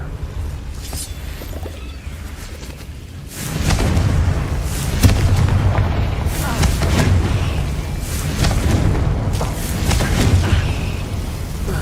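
A Confringo fire spell blast in Hogwarts Legacy, opening with a heavy booming burst partway in, then continuing into a loud, rumbling stretch of explosive thuds and crackling effects.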